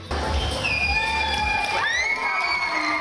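An audience at a school dance contest bursts into loud, continuous cheering, with children shouting and shrill whoops rising over a steady roar of crowd noise.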